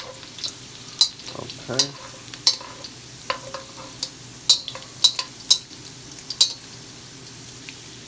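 Thin garlic slices fry into chips in a wok for a stir fry, crackling and sizzling up close. Sharp metallic scrapes and taps of stirring come every second or so, and a voice speaks one brief word.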